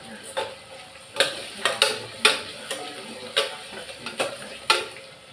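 Onions and curry leaves sautéing with rock salt for potato biryani, heard as a quiet background sizzle broken by about ten sharp, evenly spaced spoon scrapes and taps against the pan.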